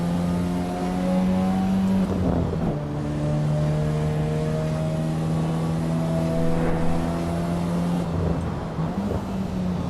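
A turbocharged Alfa Romeo engine in the racing game Assetto Corsa EVO drones steadily at high revs. The pitch drops with gear changes at around two and eight seconds, and the engine keeps pulling continuously with no talk.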